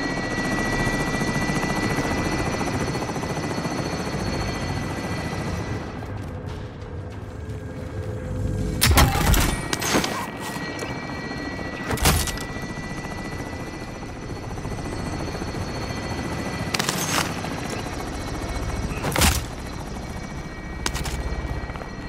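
A helicopter in Call of Duty Modern Warfare keeps up a steady rotor thrum, with several sharp, loud bursts of gunfire or impacts cutting through it.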